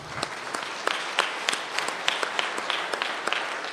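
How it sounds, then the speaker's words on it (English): Scattered audience clapping at a benefit concert for Amendment 1, individual claps standing out in an uneven rhythm, fairly close and moderately loud, with no one speaking over it. "That's right, you can clap for that."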